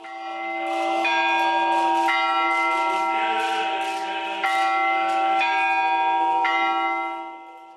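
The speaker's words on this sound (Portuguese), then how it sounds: "O Papa foi recebido com sinos" Church bells ring out loudly in Armenia to welcome the Pope, with several bells sounding at once in a sustained, overlapping peal that holds steady throughout and fades slightly at the end.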